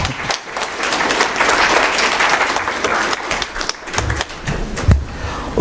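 A room full of people at an opening ceremony clapping steadily for a gift recipient, loud and continuous, with a few sharper individual claps and thumps standing out.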